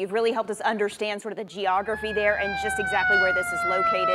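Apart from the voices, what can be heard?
emergency vehicle siren in the background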